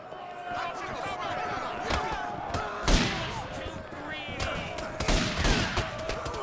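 Video game battle gunfire, a sustained fusillade of sharp shots and impacts popping irregularly at mid distance, with someone talking over the fighting.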